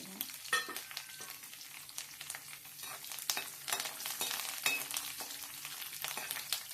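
Steady crackling sizzle of chana dal, urad dal, mustard seeds, cumin, dried red chillies and curry leaves frying in hot oil, with scattered sharp pops and spatters throughout, close by and fairly quiet.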